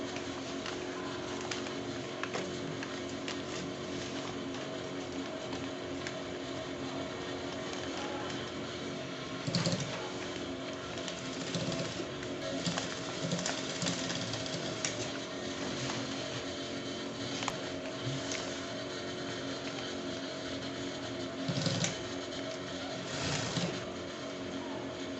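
A sewing machine stitches a half-inch seam on palazzo trousers, giving a quiet, steady mechanical whir with soft ticking and occasional louder clicks, heard close and continuous without talk.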